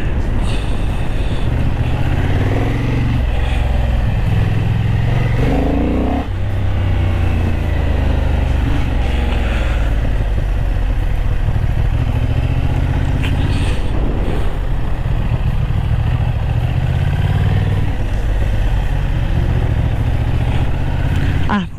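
A Honda CB750 Hornet motorcycle ridden on a track in Ramkhamhaeng, its engine droning loud and steady throughout with rising and falling revs and constant wind and road noise.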